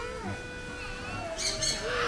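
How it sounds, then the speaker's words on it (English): Parrots squawk and chirp at a bird park in Kuala Lumpur, a few sharp calls rising over a busy outdoor background with faint chatter and whistling tones. "So many different types of parrot here."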